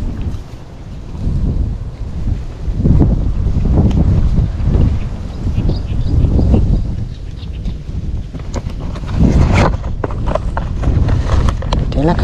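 Wind gusts buffet the microphone in rumbling low waves on a small fishing boat out on the water, fairly loud and continuous, with a voice heard briefly.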